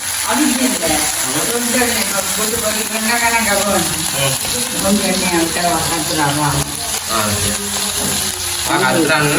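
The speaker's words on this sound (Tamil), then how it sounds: "அப்படியே அப்படியே பொறிஞ்சு வதங்கி கொண்டு வர திருப்பி பிரட்டி போட்டு பார்த்து போடுவோம்" Eggplant fries loudly in a pan with a dense, continuous sizzle while being turned and stirred, and a voice carries on over the frying.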